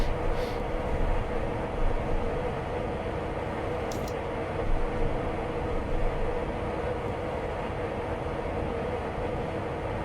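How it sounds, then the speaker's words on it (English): A train rumbling past in the Train Sim Classic video game, a Class 92 locomotive route across London, giving a steady loud low roar of wheels and engine with a couple of brief faint clicks, no voices. "Train coming through."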